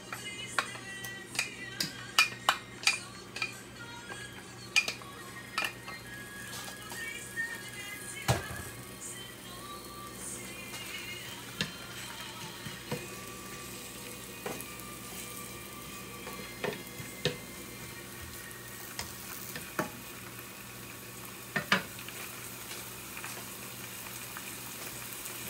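Onion and garlic frying together in a pan as filling for beef empanadas, a soft steady sizzle with scattered sharp pops and crackles throughout, no talking.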